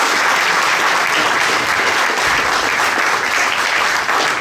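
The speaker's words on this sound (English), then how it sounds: "So please welcome with a warm applause, Lewin Boehnke." A live audience applauds steadily at a crypto asset storage talk, welcoming speaker Lewin Boehnke to the stage; the clapping is loud, dense and sustained with no voices over it.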